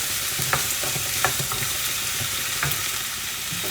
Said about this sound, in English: we can add in our okra. Okay, give it a good stir.